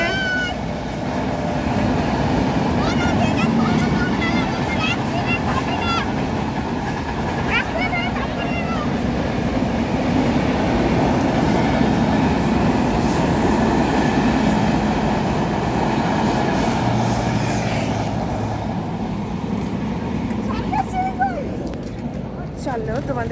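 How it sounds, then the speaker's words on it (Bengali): A train rumbles past beneath an overbridge in a steady, loud roar that holds for the whole stretch, with a faint whine near the end. "চলো চলো ট্রেন যাচ্ছে, তোমাদেরকে দেখাই আমাদের এই ওভারব্রিজের নিচ দিয়ে।"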